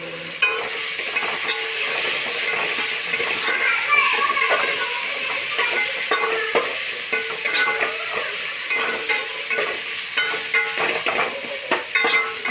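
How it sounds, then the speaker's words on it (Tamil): Chicken biryani mixture sizzling and frying in a pan, with a spoon stirring and scraping it in an uneven, continuous rhythm at close range. "எல்லாத்தையும் எடுத்து ஒன்றுனா இதில் போட்டுட்டு இதை நல்லா அப்படியே பிரட்டி விடணும்"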